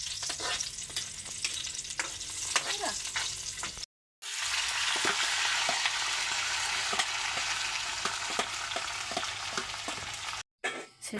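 Onion leaves sauté in a hot pan with a continuous sizzle, and frequent stirring strokes and scrapes sound close by, with two brief cuts to silence.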